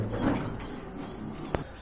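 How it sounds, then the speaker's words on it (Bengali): A pair of racer pigeons gives a soft, brief low coo close by, followed by a faint rustle and a single small knock within a couple of seconds. "এখানে কিন্তু খুবই সুন্দর এক জোড়া রেসার কবুতর আছে"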